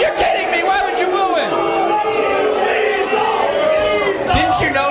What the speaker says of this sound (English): Why would you boo him?